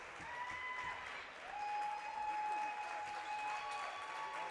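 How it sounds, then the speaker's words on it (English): Longhorn home crowd applauding and cheering at a girls' 4A regional tournament basketball game, a steady, dense wash of clapping throughout with whistles and cheers on top. "Longhorn crowd will get on their feet, give a round of applause"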